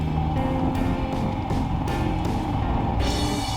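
A 2022 Royal Enfield Himalayan motorcycle engine chugs steadily while riding, a continuous low rumble with mild shifts in pitch and no talk over it.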